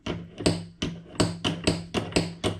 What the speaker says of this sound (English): And that's the function of this machine. It's a drop hammer.